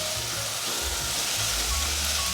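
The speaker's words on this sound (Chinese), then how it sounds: "现在把南瓜放进来，翻炒。" Pumpkin pieces stir-fried in a pan give a loud, steady sizzle that fills the whole stretch, with low scraping and tossing sounds underneath.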